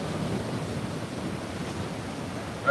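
Steady broadband rush of ocean surf rolling onto a Los Angeles beach, continuous and fairly loud with wind noise across the microphone, a brief louder swell at the end and no voices.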